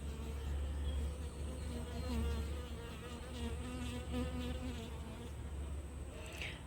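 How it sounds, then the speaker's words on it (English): Honeybees drone steadily inside an open flow hive while they work nectar between the frames, a dense, continuous buzz heard up close throughout. "the bees are working away, putting nectar and drying it out"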